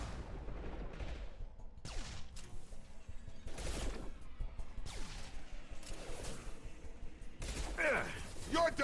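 Gunfire in the video game Mass Effect 2 comes as sporadic bursts of shots and impacts spread across the combat scene, with quieter gaps between them, while voices speak over the fighting.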